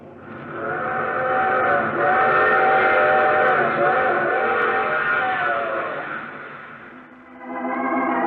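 A long, loud steam train whistle blares for several seconds, swelling and fading, then a second whistle blast starts right after.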